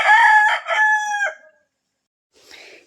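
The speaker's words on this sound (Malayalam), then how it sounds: "ഈ കോഴി ഒരു തരത്തിലും എന്നെ പറയാൻ അനുവദിക്കുന്നില്ല കേട്ടോ" A rooster crows loudly and close by, one long harmonic cock-a-doodle-doo. After a brief silence comes a shorter, fainter cackle.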